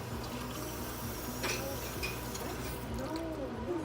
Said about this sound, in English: And then I'm gonna fill this mug up with some hot water.